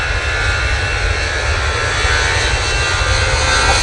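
An easyJet Airbus A320ceo rolls for takeoff at Manchester Airport, bound for Paris, its jet engines a steady, loud, broadband roar that holds without a break throughout, with no voices.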